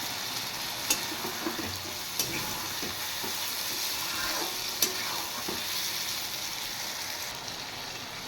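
Chopped tomatoes and half-ground green chilies fry in a pan for a boal fish dish, making a steady bright sizzle broken by occasional sharp clicks and scrapes of stirring.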